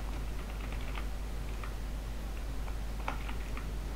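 Light typing on a computer keyboard, faint irregular key clicks in small clusters over a constant low electrical hum, close but quiet.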